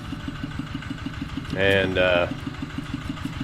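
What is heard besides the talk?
tractor engine idling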